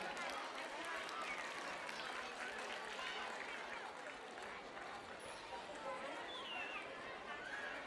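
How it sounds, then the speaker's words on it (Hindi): A crowd applauds at a school annual gathering, with dense, steady clapping that holds for several seconds and a layer of chatter and voices mixed in. "इसके लिए जोरदार तालियां बजाएंगे।"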